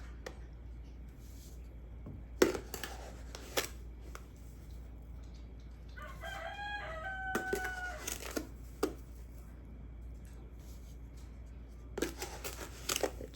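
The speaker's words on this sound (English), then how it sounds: "Chickens are pretty happy." Backyard chickens cluck softly in the distance with a brief run of calls midway, while intermittent crinkling and kitchen clatter sound nearby during home grape jam canning.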